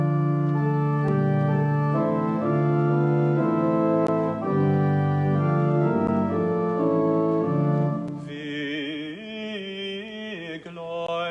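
An organ plays the Bach chorale melody "Wir glauben einen Gott" in sustained, stepwise chords at moderate loudness, with a brighter, shimmering registration toward the end and no voices.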